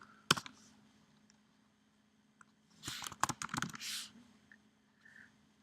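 Quiet clicking keystrokes on a computer keyboard come in a short cluster of taps after a lone early click, faint and close with no talking.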